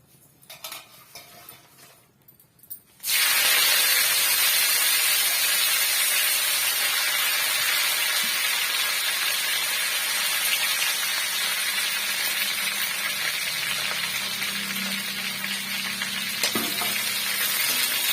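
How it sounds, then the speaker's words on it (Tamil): Curry leaves hit hot peanut oil and erupt into a loud, sustained sizzle after a quiet start, crackling steadily with occasional utensil clinks. "எண்ணெய் நல்லா காஞ்சிடுச்சு இப்போ நம்ம எடுத்து வச்சிருக்க கருவேப்பிலையை சேர்த்துக்கலாம்"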